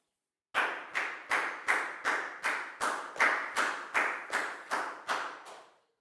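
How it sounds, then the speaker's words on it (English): A classroom of Year 4 students giving a round of applause during a math lesson: about fourteen evenly spaced, loud rhythmic claps in unison, stopping abruptly near the end. "Big round of applause for Lackow"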